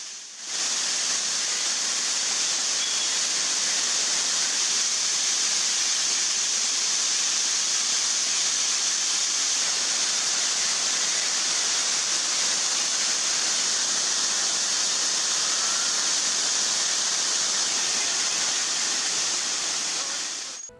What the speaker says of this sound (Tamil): தலையார் அருவி, வெள்ளி நீர்வீழ்ச்சி அருவி, வட்டக்கானல் அருவி உள்ளிட்ட பல்வேறு அருவிகளில் நீர் ஆர்ப்பரித்து கொட்டுகிறது